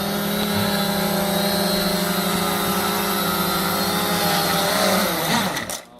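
Cheerson CX20 quadcopter drone flying on a very cold night, a steady loud propeller whine and buzz with shifting pitch that continues throughout, then dips and cuts off abruptly at the end.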